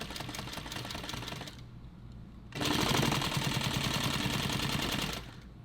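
A sewing machine stitches a nylon pouch in two bursts of rapid, rattling needle strikes, separated by a brief pause, the second run louder and longer than the first.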